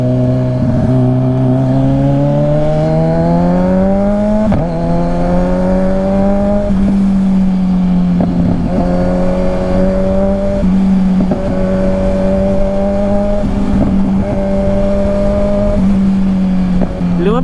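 A Kawasaki Ninja 1000SX big bike's engine drones steadily and loud, its pitch climbing and falling through several gear changes as it rides along, with no talk over it.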